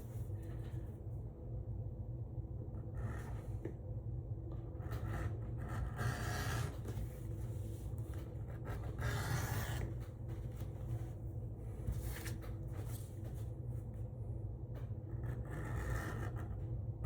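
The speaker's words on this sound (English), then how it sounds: "we're gonna start by beveling the edges here." Edges of a leather pipe rocker being beveled by hand, giving soft, uneven scraping and rasping strokes over a steady low rumble, continuous and close, with no talking.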